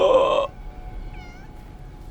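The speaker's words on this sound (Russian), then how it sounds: "я слышу мяуканье" A Minecraft cat gives one short, clear meow, followed by a faint, higher second mew over quiet room noise.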